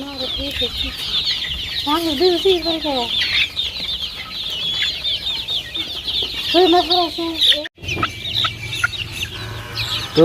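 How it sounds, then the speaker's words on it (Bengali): Several free-range local village chickens cluck repeatedly at close range in bursts of rapid, rising calls, over a busy farmyard background with a brief cut near the end. "এই দেখুন লোকাল মুরগি শৈলে উঠে গেছে"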